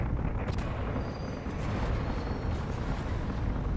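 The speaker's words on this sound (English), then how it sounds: "There was an explosion." A spaceship explosion in the game Space Engineers as guns tear through a hull, a loud, continuous rumbling roar with a sharp burst near the start, no speech.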